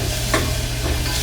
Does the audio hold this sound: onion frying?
yes